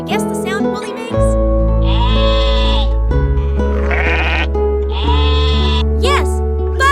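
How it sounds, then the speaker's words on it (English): A farm sheep in a field bleats in a few drawn-out calls over steady, bright backing music, with a speaking voice in between. "That's the sound of Woolly the sheep."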